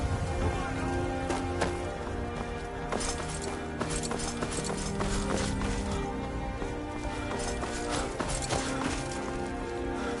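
Galloping horse hooves in Skyrim clop in a quick, steady rhythm throughout, close and fairly loud, with a faint rain-like patter beneath.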